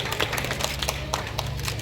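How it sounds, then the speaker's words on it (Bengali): Audience applause at a ceremony marking Kazi Nazrul Islam's birth anniversary, welcoming the chief guest, a state higher education minister: a dense, steady patter of many hands clapping, fairly close and continuous, with a low hum beneath. "সবার কাছ থেকে জোরে করতালি আশা করব।"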